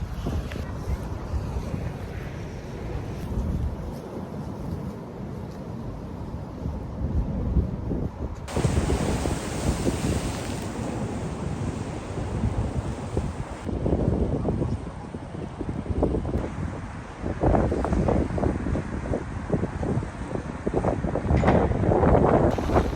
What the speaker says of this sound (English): a big wave just splashed me